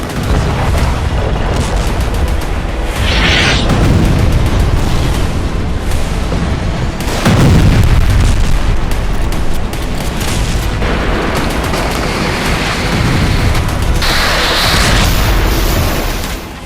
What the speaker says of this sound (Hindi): धमाके के बाद इमारत तबाह हो गई।